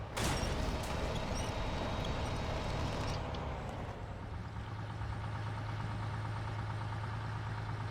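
A heavy truck engine in the off-road driving game SnowRunner idles with a steady low rumble, holding constant throughout, with a brief brighter mechanical clatter at the start.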